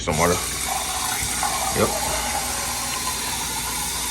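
Tap water runs steadily into a measuring cup in a home kitchen, a soft continuous hiss with a few brief clinks and handling knocks near the start.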